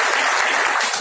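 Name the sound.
audience applause at a meeting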